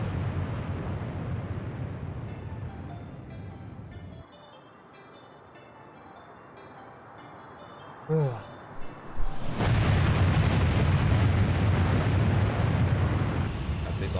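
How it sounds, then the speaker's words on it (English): A simulated sonic boom from a Concorde in a flight simulator game comes as a deep rumbling burst and roar that swells after a quieter stretch, with brief popping sounds just before the boom. "That's the sonic boom."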